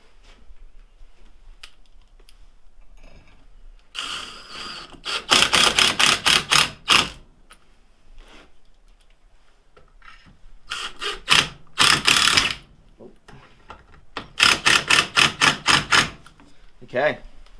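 Screws being tightened into an aluminum hydrofoil fuselage jig, heard as several rapid bursts of ratcheting clicks separated by quieter pauses, close and fairly loud.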